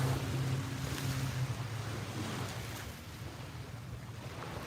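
Ocean surf rolls in at the shore in a steady broadband roar mixed with gusty wind buffeting the microphone. A low drone fades out early on.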